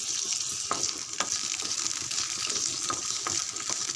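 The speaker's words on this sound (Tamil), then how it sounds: "இஞ்சி கொஞ்சம் கூடுதலாகவும் பூண்டு கொஞ்சம் நல்லா வதங்கட்டும்." Chopped ginger and a few garlic cloves sauté in a hot pan, giving a constant bright crackling sizzle with scattered sharp pops and light stirring taps close by, no voices.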